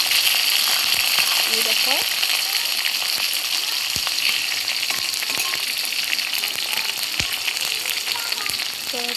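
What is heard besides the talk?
onions frying lightly in oil in a pan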